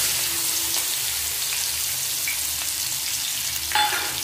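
Dried red chili, nigella seeds, chopped onion and crushed garlic sizzle steadily in hot oil, a dense close crackling hiss with a brief sharper burst near the end, no voices.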